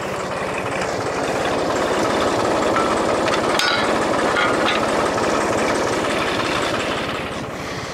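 A farm tractor engine running steadily nearby in springtime, a loud continuous diesel chug with a rapid knocking rhythm throughout.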